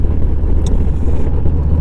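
A son's car being driven on a Sunday afternoon, a steady low engine and road rumble filling the whole stretch, close and fairly loud, with one brief higher click partway through.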